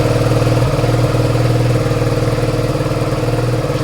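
A Suzuki SV650 motorcycle engine idles on choke on a cold late evening, a loud, close, steady throbbing with even pulses throughout.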